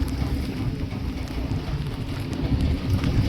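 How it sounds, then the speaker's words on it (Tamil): Heavy rain closing in at sea around a fishing boat gives a steady broadband hiss over a low, rumbling wash that builds slightly toward the end. "மழை கிளம்புறே மழை பக்கத்தில் வந்துட்டுடா"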